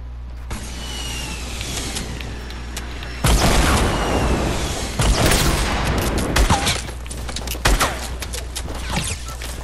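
Gunfire rings out in a shooter video game during a trick shot, with several sharp, loud blasts at irregular intervals over a steady background hum and crackle.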